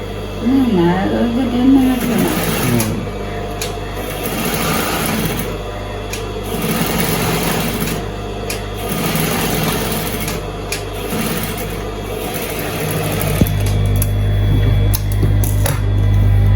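A sewing machine stitching a shirt from leftover cloth, its motor whirring continuously and close with uneven surges, while a voice talks over it in the background.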